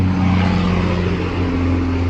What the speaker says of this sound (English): that was loud traffic